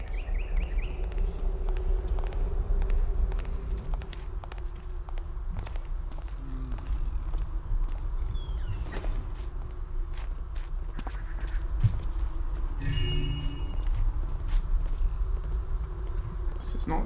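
Footsteps in Thief during a fan mission near a crypt, a regular patter of steps over a droning ambient bed, some nearer and some distant, with a few louder knocks along the way.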